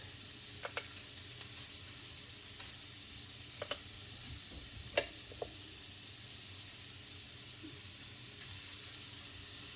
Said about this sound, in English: This is where I add my 2 ounces of ground turkey.